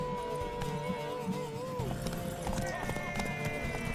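Steady clip-clop of horse hooves in The Witcher 3, with a tonal musical drone and faint voices underneath.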